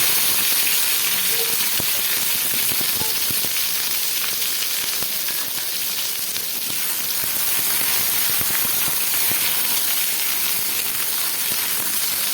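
Eggplant pieces frying in hot oil, a loud, dense, crackling sizzle heard close up and steady for the whole stretch, with faint clicks of a utensil and no talking.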